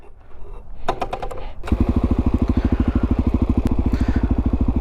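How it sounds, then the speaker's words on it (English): A supermoto motorcycle starts up after some brief clicks and clatter, its single-cylinder engine then settling into a loud, fast, evenly pulsing idle close to the microphone. "let's hop on the bike"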